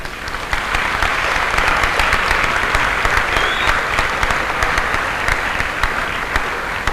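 Audience applause at a graduation ceremony for the Aga Khan Academy, Mombasa, class of 2016: loud, dense, sustained clapping from a large crowd, steady throughout without letting up.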